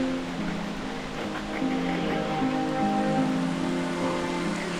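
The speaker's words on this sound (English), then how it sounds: "some pretty heavy rain has come out of nowhere" Heavy rain pouring down on a backroad in Oaxaca, Mexico, a steady broad hiss with a constant roar and low tonal hum underneath, no voices.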